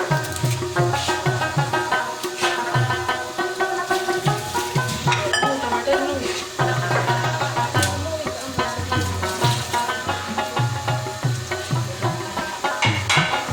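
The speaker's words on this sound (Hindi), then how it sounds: "चिप्स को फ्राई करने के लिए हम ऑयल में डाल देंगे" Potato chips fry in oil in a pan, giving a steady soft sizzle broken by rhythmic scraping and stirring strokes and occasional light clanks of a utensil against the pan, close and fairly loud throughout.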